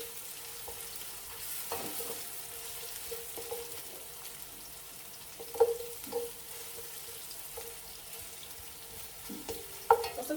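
Oil and onion fry quietly in a pan with a soft, steady sizzle, punctuated by scraping stirs and a few sharper clinks of the utensil against the pan; no talk.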